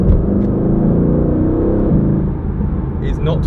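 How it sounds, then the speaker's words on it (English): Mercedes-AMG GT convertible with a twin-turbo 4-litre V8 and seven-speed dual-clutch gearbox, its engine droning loud and steady close by throughout, with a faint voice near the end. "It comes with a 4-litre V8 with a carbon drive shaft and a 7-speed dual clutch automatic gearbox."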